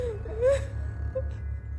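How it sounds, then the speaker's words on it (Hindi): Eerie, ghostly crying and wailing rise from deep inside a village well in a horror cartoon: a single drawn-out moaning whimper that swells briefly, then a fainter sob, over a low steady hum with no talk. "कुएं के अंदर से धीरे धीरे रोने की आवाजें सुनाई दी"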